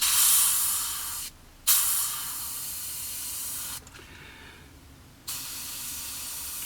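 Airbrush spraying green paint onto a Kinetic Harrier GR3 scale model, a steady close hiss that cuts out twice for brief pauses before resuming, with no talking.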